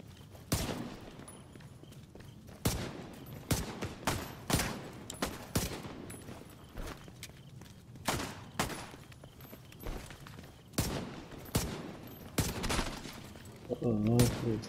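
Pistol gunfire in a one-on-one video game match: sharp shots ring out in uneven bursts and single cracks across the whole stretch, with footsteps and a voice talking underneath.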